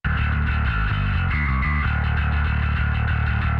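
Loud, fuzzy distorted bass chugs through a continuous metal riff via an amp-simulator plugin, its tone buzzing and compressed, with no talking.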